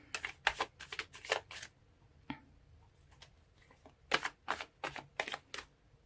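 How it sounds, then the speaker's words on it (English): Tarot cards shuffled in quick crisp riffling bursts, a pause with a few soft taps, then another run of close shuffling, quiet and without talk. "So let's pull more cards and see what we can get."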